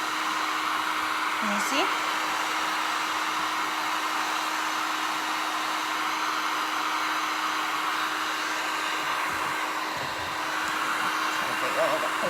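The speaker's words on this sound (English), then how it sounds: "the longer that you hold the heat gun on there, the darker it will get" A heat gun blows hot air onto a small craft blank with a steady, loud, continuous rushing hum that lasts throughout, while a person talks briefly over it.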